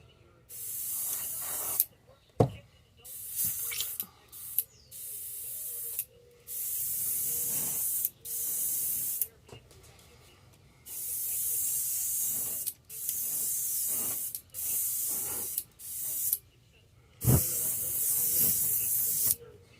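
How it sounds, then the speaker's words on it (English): An aerosol can sprays pearl white paint onto a fishing lure, hissing in repeated bursts, short and longer blasts separated by pauses, close and fairly loud. "I've just been spraying pearl white over him till I got him where I wanted him"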